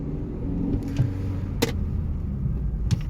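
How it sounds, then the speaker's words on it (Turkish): A 2023 Chery Tiggo 7 Pro pulling away under throttle, a low, steady engine and road rumble from inside the car with a few brief clicks, no talking. "Şu an aracımız gitmek için hazır ve gaz veriyoruz gidiyor."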